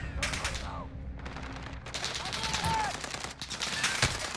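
Rapid automatic gunfire bursts in Call of Duty Modern Warfare multiplayer team deathmatch, loud and close, with sharp repeated cracks, short pauses between bursts and a few whistling tones layered in.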